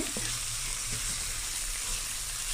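Spices and chili powder sizzle in an oily pan for a Jaffna-style fish curry, a loud, continuous close frying hiss that holds steady throughout with no talk.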